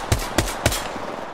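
Three sharp, evenly spaced gunshots ring out in quick succession in Apex Legends, close and punchy, followed by a faint background hum.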